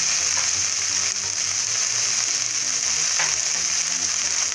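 Smoked bacon frying in a hot skillet as part of a Christmas turkey stuffing, giving a steady, close hiss of sizzling fat with faint crackles throughout and no talk.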